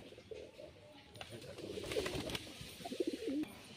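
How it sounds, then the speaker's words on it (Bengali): Soft cooing from a female pigeon, a chuti-crested hen offered for sale, comes in a few low rolling calls near the end amid background chatter and handling noise. "এটা মাদি পায়রা"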